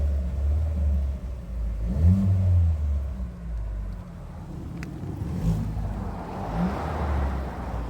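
A used car's engine running at close range, a low rumbling idle with a couple of brief revving swells partway through.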